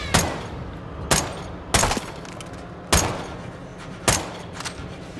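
Gunfire in Call of Duty: Modern Warfare 2, five sharp loud shots spaced about a second apart, each ringing briefly before the next.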